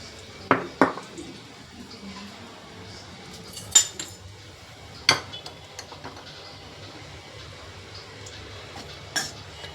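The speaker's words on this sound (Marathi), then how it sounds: "आणि आता आपल्याला हे गव्हाचं पीठ बारीक गॅसवर भाजायचं आहे" Wheat flour being dry-roasted on a low gas flame and stirred in a pan, heard as sparse, sharp clinks and scrapes of a utensil against the pan over a quiet background, with no talking.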